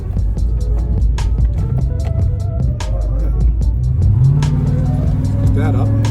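A car pulls away and accelerates during the bedding-in of new PowerStop brake pads and rotors. A steady road rumble leads into a rising engine note, and someone speaks over the drive.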